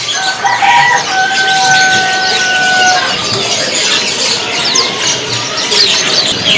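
Caged birds at a bird kiosk chirp and trill densely, with a long sustained whistle early on and bright calls scattered throughout, close and fairly loud.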